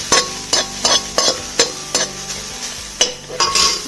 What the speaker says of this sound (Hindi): इसको हम कम से कम 1 मिनट तक ऐसे ही हिलाते रहेंगे।